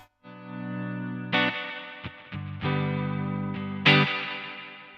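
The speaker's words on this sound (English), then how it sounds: "Guitar into reverb." An electric guitar runs through an Analog Alien Rumble Seat reverb pedal, with several sustained chords that ring and decay into reverb tails and a few brief muted strums between them, no talk.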